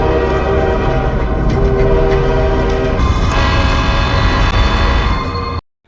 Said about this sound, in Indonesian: Kereta melintas